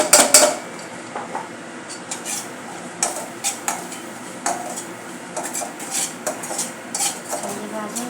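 A spoon scrapes and clinks against a pan as spices are stirred into bhadang, puffed rice snack. The stirring comes in repeated irregular strokes, close and crisp, with no talking.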